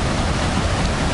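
Niagara Falls roaring near Goat Island: a steady, dense, loud wash of falling water filling the whole moment, broadband and unbroken, with no voices.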